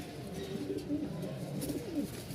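Pigeons at a Dhaka pigeon market coo close by, soft repeated low throaty calls rolling over a steady murmur of background noise.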